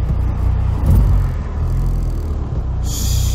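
A car, apparently BMW Z3-related, accelerates hard with a loud, close engine roar and steady low rumble that swells briefly near the one-second mark, then a bright whine rises near the end.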